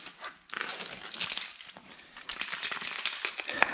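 Sheet metal from a car trunk is cut and ripped away with a hand saw, giving a close run of crinkling, rasping metal scrapes and sharp bright snaps over a few seconds.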